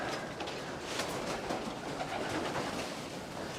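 Pigeons cooing inside a pigeon room, a continuous bed of soft overlapping coos and rustling from many birds at close range, with no talking.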